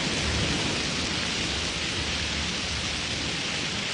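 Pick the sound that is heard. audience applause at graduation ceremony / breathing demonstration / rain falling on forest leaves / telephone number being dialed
rain falling on forest leaves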